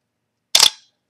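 A single sharp mechanical click of a camera's cloth curtain shutter, close and crisp, with a brief metallic snap that fades quickly into silence.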